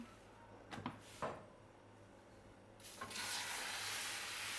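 Crepe batter sizzles in a hot pan, a faint, steady frying hiss that swells louder toward the end, preceded by a few soft knocks and clatters of utensils.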